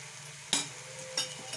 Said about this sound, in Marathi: आता आपण कांदा व्यवस्थित भाजून घेऊया.